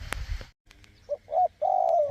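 A decoy bird used for luring wild birds gives a few short chirps and a longer trilling call. The calls are close and clear, with little else around them.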